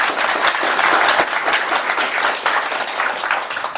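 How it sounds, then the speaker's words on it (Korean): A church congregation breaks into steady, dense applause during a worship service, a full room of hands clapping loudly and evenly for several seconds with no voices on top. "박수로 환영하겠습니다"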